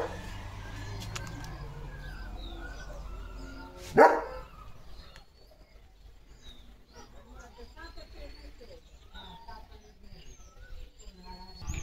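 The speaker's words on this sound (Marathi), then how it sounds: "कुणाला भुंकवतोस?" A dog gives one sharp, loud bark amid outdoor ambience, with people talking nearby before and after.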